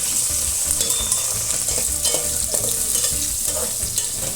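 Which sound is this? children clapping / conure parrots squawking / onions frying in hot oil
onions frying in hot oil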